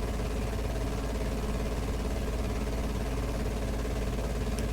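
Piper J-3 Cub engine in a VATSIM flight simulator game, a steady, unbroken droning hum that holds at an even loudness throughout with no speech.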